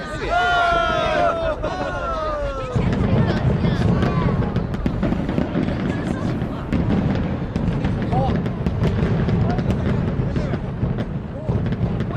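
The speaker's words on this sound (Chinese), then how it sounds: "真的有人在放烟花。" Bursts of fireworks pop and crackle repeatedly in the distance while excited voices chatter over them, following a brief stretch of music at the start.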